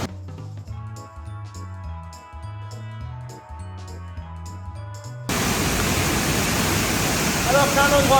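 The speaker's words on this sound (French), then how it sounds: "vous pouvez voir il y a la cascade" Dense, steady roar of a waterfall as water pours off rock in the Italian countryside, broad and constant, coming in loudly after a stretch of music.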